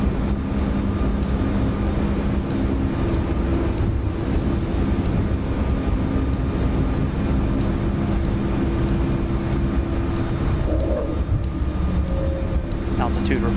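A steady, loud jet engine roar from a Boeing 737 MAX 8 accelerating for takeoff in Microsoft Flight Simulator 2024, a continuous drone with a faint tonal whine, with voices over it.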